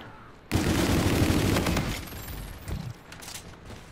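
Gunfire in Call of Duty: Infinite Warfare on the Depot 22 map in Gun Game against bots: a loud, sustained volley of shots that tapers into scattered echoing bangs.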